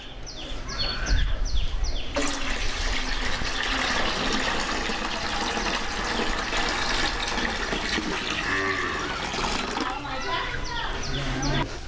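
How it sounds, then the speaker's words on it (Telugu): Cow urine is poured from a container into a vessel of water for a seed-treatment mix, a steady filling splash running under continuous speech, with birds chirping in the background. "తర్వాత ఆవు మూత్రం పోయాలి."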